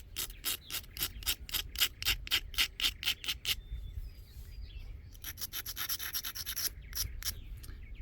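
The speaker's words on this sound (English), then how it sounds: "Grind this a little bit." A zebra stone flint arrowhead is ground against an abrasive in quick, even rasping strokes, about a dozen close scrapes, followed by a pause and then faster, lighter rubbing, with no talking.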